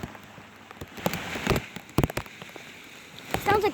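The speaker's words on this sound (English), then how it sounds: "I'll just let you listen to the rain." Heavy tropical-storm rain from Isaias pelting down, a steady dense patter with sharper drops striking a nearby surface and a few louder close impacts, with no talking.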